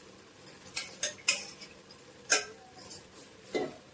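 A spoon scrapes and clinks against a pot while prawn biryani rice and masala are mixed from the bottom up, giving a handful of irregular, close metallic taps and scrapes with no talking.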